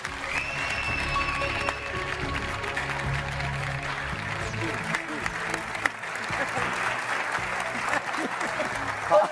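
Studio audience applause on a Turkish TV word-game show, broad steady clapping that fills the whole stretch with a crowd murmur underneath and voices faintly mixed in.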